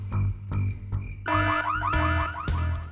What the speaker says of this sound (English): We'll set off the alarm again.